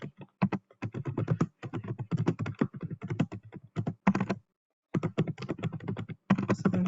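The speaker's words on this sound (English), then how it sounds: "just going to type in an example" Rapid clacking of keys on a computer keyboard as an example is typed into a resume, steady uneven bursts of taps with short pauses, close and clear with no talking.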